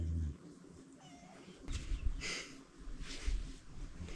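A cat in Madagascar meows a few times in short, close calls with breathy pauses between them, over a low rumbling background.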